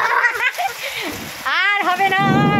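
Heavy rain falls in a thunderstorm with hail, a steady wash of splashing drops close by, running under a talking voice for most of the clip.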